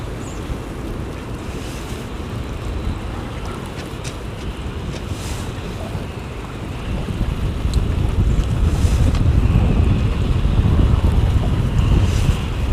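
Strong wind gusting outdoors on a hilltop, buffeting the microphone with a steady low roar that swells louder in the second half, with no one speaking.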